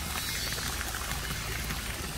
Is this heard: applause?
no